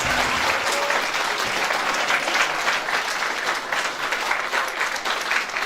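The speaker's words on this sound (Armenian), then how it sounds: "Խնդրում եմ եւս մեկ անգամ բոլորս ծափահարենք մեր աշակերտները։" An audience at a school celebration applauds the students with steady, dense clapping that holds evenly from start to finish, loud and close.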